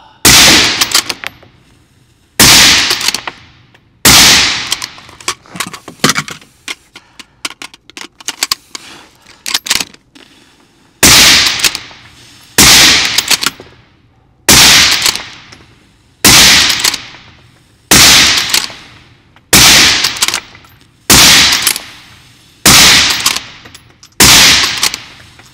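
Rapid bolt-action rifle fire in a mad minute shooting test with a Tikka T3x Arctic, the Canadian Ranger C19. Loud, sharp shots come in a steady series at regular intervals, with clicking and rattling bolt work between them.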